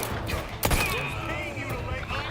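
Gunfire in The Outer Worlds 2, one sharp close shot with a thumping impact, then a ringing tail and lingering game ambience.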